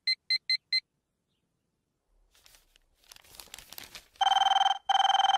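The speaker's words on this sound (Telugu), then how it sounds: "అబ్బా, ఈ ఫోన్ చంపేస్తున్నా." A telephone rings in short electronic bursts, first a quick series of four beeps, then after rustling, two long loud rings close by.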